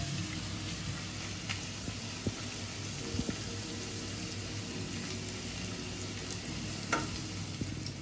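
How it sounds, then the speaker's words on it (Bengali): Vegetable Manchurian ingredients fry in a pan over raised gas flame, giving a steady, close sizzle with soft stirring scrapes throughout and no talking. "একটু লাল হওয়া অবধি নাড়াচাড়া করবো।"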